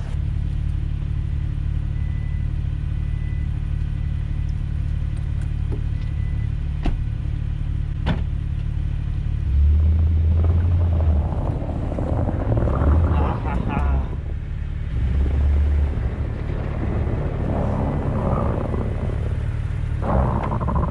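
Truck engine driving out of the snow, a heavy, continuous low rumble that surges louder several times as it pulls free, with people talking over it.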